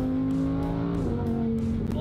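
A stiff, loud car is heard from inside, its engine holding a steady, harmonic-rich drone with a slight shift in pitch partway through, close and continuous with no talk.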